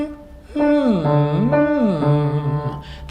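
A vocal cool-down exercise with piano accompaniment: a single voice sings sustained tones and sliding octave glides up and down, with short staccato notes near the top.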